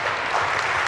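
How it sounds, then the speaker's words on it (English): Dense, steady applause from a large audience at an organic vegetarian conference in Dubai, continuous and close throughout. "Go ahead, clap in them, clap in the government."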